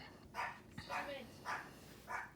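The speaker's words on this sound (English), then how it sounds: "you hear my dog barking in the background" A dog barks four times at an even pace somewhere in the background, faint and muffled, with a person talking over it.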